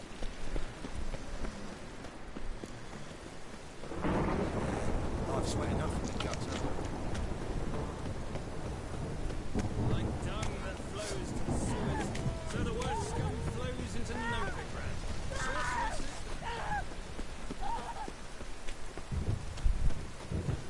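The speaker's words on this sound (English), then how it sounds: "Rain again." Rain and thunder in The Witcher 3: a low rumble opens and then gives way to a steady hiss of rainfall, with hoofbeat-like clopping and someone talking over it in places.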